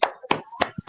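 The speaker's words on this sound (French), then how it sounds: "Applaudissez très très fort pour elle." A few separate hand claps from a small audience at a Toastmasters club contest, four or five sharp, close slaps with short gaps rather than sustained applause.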